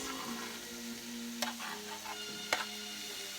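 Peppers stirred in a hot pan, a soft continuous sizzle with a couple of sharp utensil clicks against the pan, no talking.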